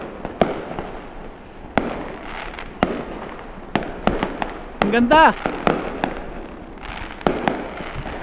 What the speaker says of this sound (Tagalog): Pakita sa kanila fireworks.